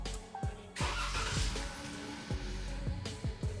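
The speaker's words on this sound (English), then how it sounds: "Let's go ahead and start the car up." A 2018 Chrysler 300 being started after a fuel injector replacement for a misfire, with repeated sharp low thumps and a broad mechanical rumble over several seconds, close and fairly loud.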